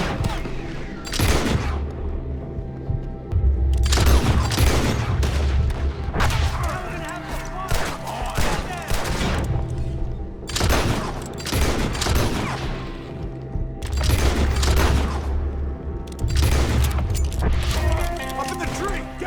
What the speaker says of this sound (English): Shoot the ones up there!